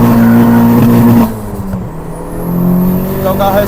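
A turbocharged Audi TT quattro making over 300 hp roars loudly in a low gear, then the engine note dips briefly and climbs again as it pulls hard, heard close from inside the car.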